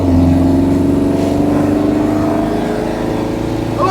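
A 1971 VW Square Back air-cooled engine labours uphill in fourth gear, a steady loud drone with a rhythmic low throb and a faint whine that holds even throughout.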